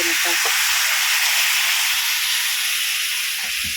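Dosa batter hits a hot pan and sizzles with a loud, steady, steamy hiss that runs throughout, close by, with brief faint voices at the start and end.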